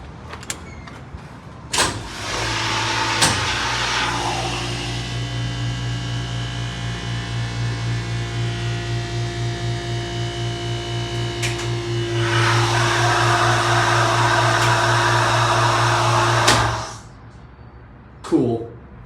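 A MontgomeryKone hydraulic elevator motor in a parking garage motor room starts with a clunk and runs as a loud steady hum and pulsing whine for about fifteen seconds, then shuts off with a clack.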